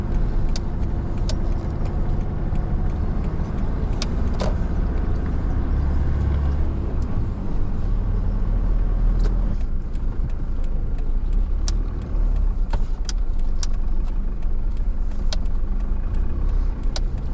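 A Toyota rally car in a raid event idles and rumbles nearby with a steady engine drone, occasional clicks and knocks over it, as it prepares to set off.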